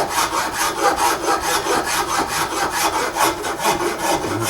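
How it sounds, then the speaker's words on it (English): Steady back-and-forth strokes of a rasp filing a wooden gunstock, an even rhythmic scraping of roughly three strokes per second, close and loud with no talk. "Go back to my rasp."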